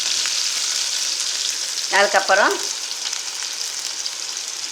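Small shallots hit hot oil with mustard seeds, giving a steady, close sizzle and hiss that runs throughout while a brief spoken word sits in the middle.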